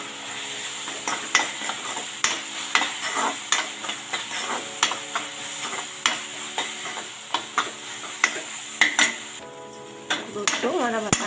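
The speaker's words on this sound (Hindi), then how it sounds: "थोड़ी देर इस मसाले को पकाते हैं जब तक ये ऑयल ना छोड़ दे।" Masala with kasuri methi sizzles in oil in a pan while a spoon stirs and scrapes it in repeated sharp knocks, steady frying hiss underneath; dal makhani cooking.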